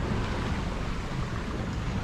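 West Sail 32 sailboat under sail into a choppy sea at about five knots, with steady broadband rush of water and wind noise continuous and fairly loud throughout, no talking.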